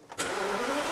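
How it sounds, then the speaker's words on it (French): A 6-litre V12 car engine cranks briefly and fires up, settling into a steady, loud, broadband running roar that continues without pause. "Si je démarre le véhicule,"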